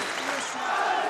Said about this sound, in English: And the crowd certainly making their thoughts known